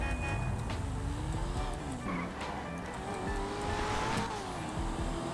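Cars racing in GTA V, with continuous engine roar, revving and tire squeals throughout, loud and steady.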